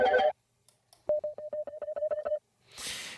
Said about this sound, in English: each repetition of that delay is going to be louder and also more distorted and chorused